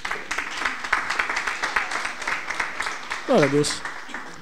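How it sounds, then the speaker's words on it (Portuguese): A church congregation applauds for a woman named Rosa, a dense patter of clapping running steadily under a voice, with a brief shout of praise near the end. "Uma salva de palmas para a Rosa."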